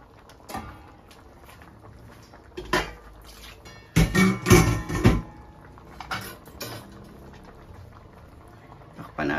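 Sinampalukang bangus (milkfish in tamarind broth seasoned with mustard greens and fish sauce) simmers in a covered pot, a soft bubbling interrupted by clattering pot and lid knocks, loudest in a burst midway.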